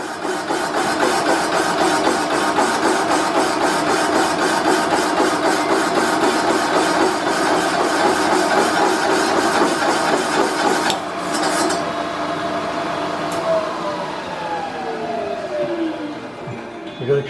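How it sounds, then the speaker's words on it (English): Machining a blown motor part on a lathe, counterboring it down, with a steady grinding, scraping cut that runs continuously, then eases into a quieter whirring spin-down toward the end. "continuing on, machining now, counter boring down"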